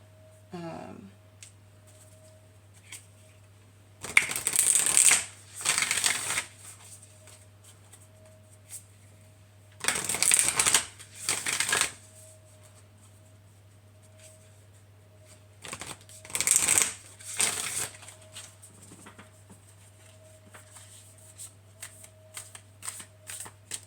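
Kyle Gray's Angels and Ancestors oracle card deck being shuffled in three separate bursts of riffling, close and crisp against a quiet room with a low steady hum, brief pauses between each round.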